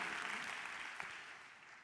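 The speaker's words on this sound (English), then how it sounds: "clap it up for Lisa for being an innovator" Seminar audience clapping, a dense wash of many hands applauding steadily, fairly distant and soft, tapering slightly toward the end.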